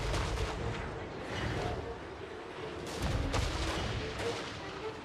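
Dwarf artillery booms mixed with gunfire in a Total War: Warhammer III battle, with dense continuous volleys and heavy blasts over a roaring battlefield din.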